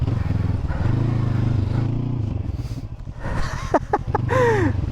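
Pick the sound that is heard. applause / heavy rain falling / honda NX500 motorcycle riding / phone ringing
honda NX500 motorcycle riding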